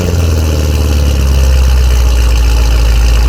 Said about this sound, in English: put headers and X-pipe on the C7 Corvette to make this thing a lot louder and sound a lot better